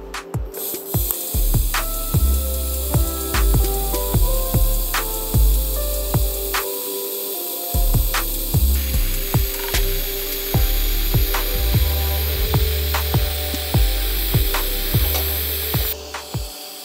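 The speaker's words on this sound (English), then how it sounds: "We're gonna weld." Welding on a Porsche 930 exhaust pipe under argon purge, a steady buzzing arc with regular sharp ticking pulses and short pauses between start-stop sections, close and continuous with no talking.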